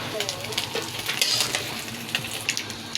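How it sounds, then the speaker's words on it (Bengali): Small puti fish fry crisply in a pan with a dense, continuous sizzle and crackle, while occasional scraping and stirring sounds come through close by. "বন্ধুরা দেখো পুঁটি মাছ, কড়া কড়া পুঁটি মাছ ভাজতে আছি"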